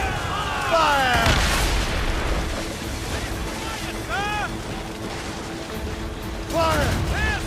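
Ship cannons in the naval game Assassin's Creed Rogue fire in a rough volley, with booming blasts over rolling sea noise while a voice shouts orders in between.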